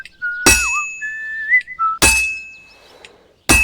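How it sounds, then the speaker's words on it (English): A person whistles a short wavering tune while hammering a sword at a forge in Kingdom Come Deliverance II, with three loud ringing metal blows set about a second and a half apart, close and clear. "Sometimes I'll whistle to myself to keep the rhythm going."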